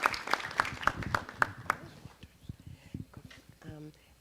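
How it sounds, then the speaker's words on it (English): Brief applause from a city council meeting audience for a student, a short patter of claps that quickly dies away into quiet room noise and a few scattered sounds. "And we have a clap for you."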